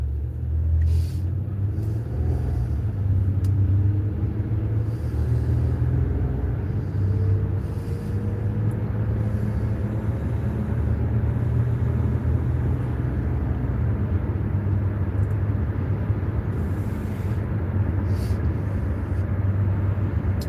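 A car's steady engine rumble and road noise drone on continuously from inside the vehicle while driving, low and even with no talk.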